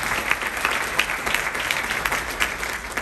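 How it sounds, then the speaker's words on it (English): Audience applause at a community event fills the room, a steady dense patter of many hands clapping with no voices over it. "y'all could clap for that."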